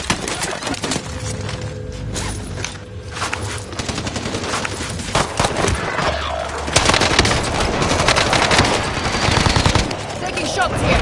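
Dense video game gunfire in a military shooter, rapid machine-gun bursts and single shots layered continuously with explosions and shattering debris, loud and close throughout, with shouted voices mixed in.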